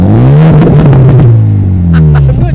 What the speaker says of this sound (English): I don't know if you can hear that induction noise.